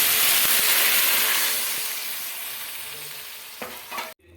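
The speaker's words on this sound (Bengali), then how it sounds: "আলু আর সোয়াবিনটা একটু কষিয়ে নেবো" Potatoes and fried soybean chunks stir-fried in spice paste in a pan, giving a loud, steady sizzle with scraping stirs that slowly fades before a sharp clatter near the end.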